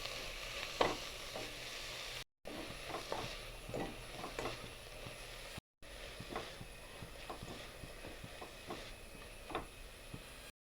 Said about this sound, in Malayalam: ആ വെജിറ്റബിൾ എല്ലാം കൂടെ ഒന്ന് സോട്ട് ചെയ്തെടുക്കുക.